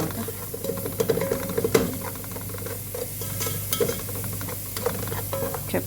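Chicken is stirred with garam masala and salt in a hot pan for kabsa, with close scraping stirs and a continuous sizzle and hiss that rise and fall.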